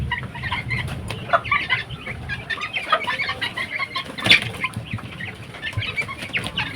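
Farm chickens fed grass in a basket, several clucking near and overlapping, with rustling, flapping and soft scratching throughout.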